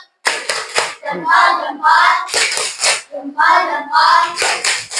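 A classroom group performs a patterned salute clap, sharp bursts of clapping in a quick rhythm mixed with children's chanting voices, close and loud across the whole stretch.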